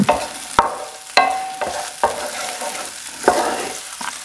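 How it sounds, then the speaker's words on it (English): Onions and garlic in a frying pan while fried rice is cooked, with a steady sizzle broken by several sharp scraping stirs at irregular intervals, close and fairly loud, no talking. "When you get onions and garlic going in the frying pan, oh, it's the best."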